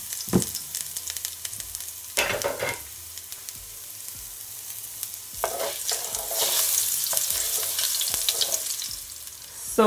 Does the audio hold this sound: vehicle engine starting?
no